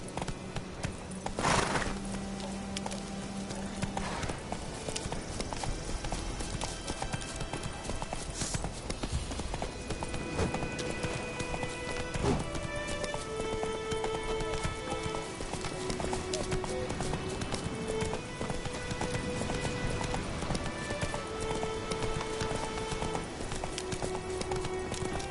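A horse gallops in The Witcher 3 with a steady, rapid clip-clop of hooves throughout, under a soft musical backdrop, with no one speaking.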